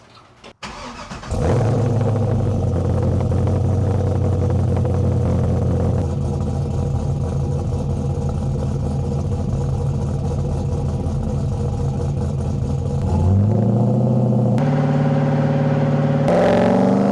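A Corvette C5 Z06 starts up and drives off, the V8 catching with a sharp bark, then settling into a loud, close, steady rumbling idle and rising into revs as it pulls away.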